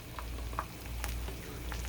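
A freshly baked Cuban sandwich sizzles faintly and steadily, a soft crackling hiss with a few light clicks and taps of handling over a low background hum.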